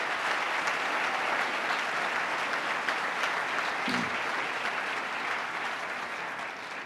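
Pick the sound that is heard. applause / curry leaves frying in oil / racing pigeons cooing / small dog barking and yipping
applause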